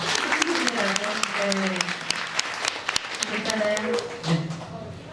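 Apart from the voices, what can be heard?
audience applause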